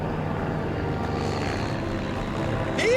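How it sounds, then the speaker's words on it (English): Propeller airplane flying overhead and banking away above open water, a steady broadband drone throughout with a brief rising shout-like tone near the end. "as the plane banks away"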